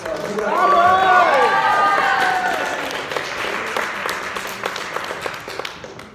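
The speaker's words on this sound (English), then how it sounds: "give a round of applause to Aaron" A youth group crowd breaks into applause and whooping cheers, with voices calling out loudly at first over a broad wash of clapping that gradually thins into scattered claps and fades.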